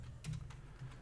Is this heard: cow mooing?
no